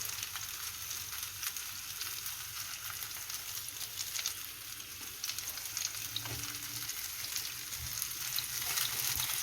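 Homemade vegan beef made from vital wheat gluten browns in a hot pan with a continuous close sizzle and crackle that holds steady throughout, with faint scrapes of stirring.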